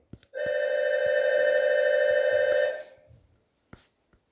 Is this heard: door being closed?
no